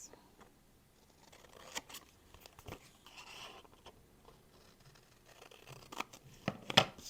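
Scissors snip away excess patterned craft paper while a spring-themed greeting card is assembled, giving several scattered close, quiet cuts and rustles, with a sharper crisp snip near the end.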